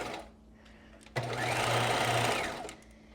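A sewing machine runs a zigzag stitch along the seam of a knit jewel-neck top, one steady whirring burst of about a second and a half, close and fairly quiet, with no talking.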